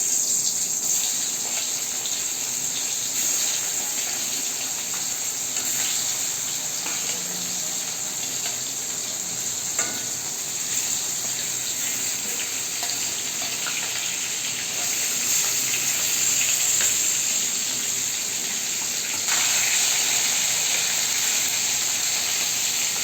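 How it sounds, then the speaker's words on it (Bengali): Snakehead fish frying in hot mustard oil, a loud, steady hiss and sizzle that continues without pause and swells slightly as more pieces go in. "এর মধ্যে আমি এক এক করে মাছগুলোকে দিয়ে দেবো।"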